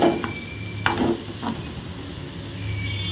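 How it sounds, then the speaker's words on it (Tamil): Stirring a vegetable poriyal in a pan, with soft scraping and stirring strokes over a gentle sizzle, a few louder clinks near the start and middle, no voices. "நான் ஃபுல்லாக அதை கிளறிட்டு காமிக்கிறேன்"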